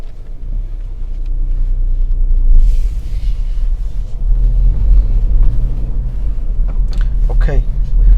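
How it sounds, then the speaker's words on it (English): A learner driver's car starts up and pulls away, a steady loud low engine rumble running throughout, rising slightly as it moves off, with voices talking briefly near the end. "Start the car please and move on."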